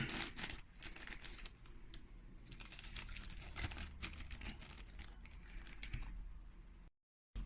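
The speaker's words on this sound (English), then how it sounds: "I'm going to take my swab and I'm going to put it in my waste bag as well." A used test swab goes into a plastic waste bag, making soft crinkling and rustling of thin plastic with a few small clicks. The sound is faint and close, and it ends in a short silence.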